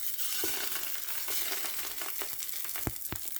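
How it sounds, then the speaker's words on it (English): Johnsonville bacon cheddar bratwursts sizzle steadily in a hot frying pan, a constant crackling hiss with occasional sharper pops and a faint clink. "Give a nice sizzle here."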